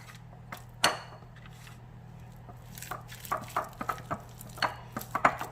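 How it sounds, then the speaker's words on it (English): Seasoned spinach filling for stuffed cream cheese chicken breast stirred in a bowl: a string of short, close scraping and squishing strokes, sparse at first then quickening, over a steady low background hum. "I'm just going to give that another little stir."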